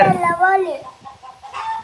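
A hen gives a few short clucks up close, rising into a brief crowing cackle at the start, followed by softer scattered clucks and a bit of faint background sound.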